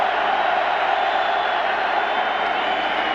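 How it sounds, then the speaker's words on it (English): A home crowd at a college football game, West Virginia against Virginia Tech, roars in a steady, dense, sustained cheer filling the whole stretch with no break. "And now here comes this crowd, too."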